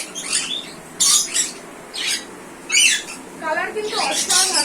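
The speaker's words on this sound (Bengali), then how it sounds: "এটা হলো ইক্লেটার প্যারট, অ্যাডাল্ট পেয়ার, এটা ফিমেল" An adult pair of eclectus parrots, female and male, in an aviary give repeated harsh squawks in bursts, loud and close, with short gaps between calls and a faint chatter of other birds beneath.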